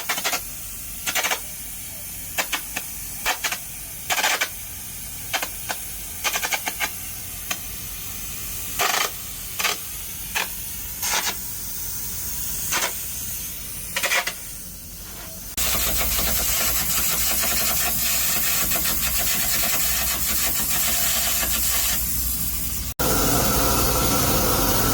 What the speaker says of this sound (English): Show you some back gouging to the back of the bar.